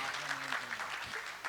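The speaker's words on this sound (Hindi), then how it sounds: "जोरदार ताली बजा दीजिए" Audience applause at a Hindi religious gathering with a Jain monk, a steady wash of clapping from a crowd under a faint voice, continuous and fairly loud throughout.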